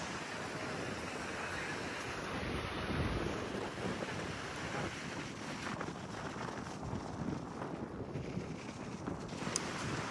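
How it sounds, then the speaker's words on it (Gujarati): Roaring sea surf at Dumas beach during rain, a steady broadband wash of breaking waves with wind buffeting the microphone, continuous and loud throughout with no talking. "દરિયો મારી પાછળ જ છે અને ઘૂઘવાટા પણ કરે છે"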